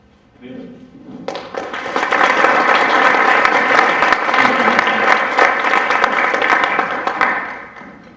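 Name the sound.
applause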